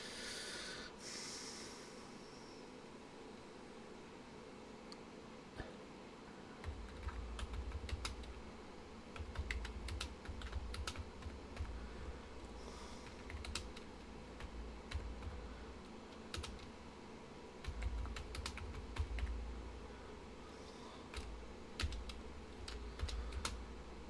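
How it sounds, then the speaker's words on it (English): Typing on an unfamiliar secondary computer keyboard, a steady run of light, close key clicks in irregular bursts over a low room hum, with no one talking. "I got a secondary keyboard and I'm not used to the size of it."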